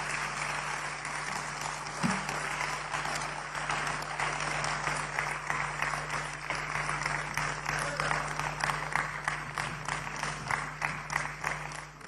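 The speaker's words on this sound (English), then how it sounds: "give our national chairman another rousing round of applause" An audience at a Ghanaian political party address applauds after the speech, a long run of steady clapping over a low hum, with voices mixed in.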